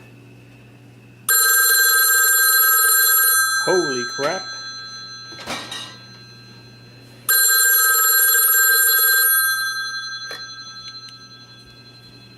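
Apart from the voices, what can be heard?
old telephone bell ringing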